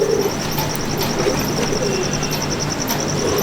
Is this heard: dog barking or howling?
no